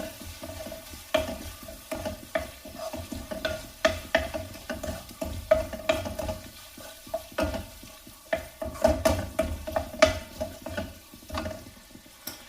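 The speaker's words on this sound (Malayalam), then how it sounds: "ടൊമാറ്റോ സോസ്, ഒന്ന് മിക്സ് ചെയ്യാം" Tomato sauce being stirred into a frying boiled-egg dish in a pan: steady scraping spoon strokes recur every second or so over a continuous low sizzle, close and moderately loud, with no talking.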